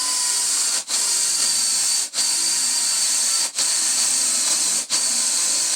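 A power tool cutting a 1 1/4 inch hole in wood, giving a steady, loud, hissing whir close by, broken by four brief pauses at regular intervals.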